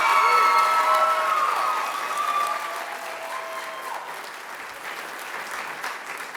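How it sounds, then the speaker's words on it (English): An audience applauding at a school Broadway revue show, a dense wash of clapping with a few cheers and young voices, loud at first and then easing off. "Let's give them all a round of applause"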